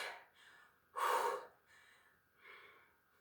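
Heavy, effortful breathing during a HIIT workout: a few ragged gasping breaths, one loud sharp inhale-exhale in the middle, close and unaccompanied by speech.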